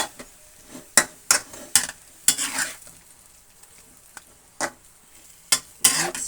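Chayote tops being stirred and mixed in a frying pan: a series of sharp scraping strokes at irregular intervals over a soft background sizzle, close and fairly loud, with no talking.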